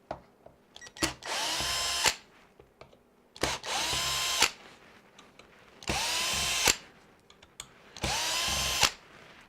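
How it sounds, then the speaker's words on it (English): A power drill removes screws from a Traxxas X-Maxx RC car in four separate whirring bursts, each lasting about a second, loud and close, with short quiet gaps between them. "Now I will use a drill to make this a little bit faster for you guys."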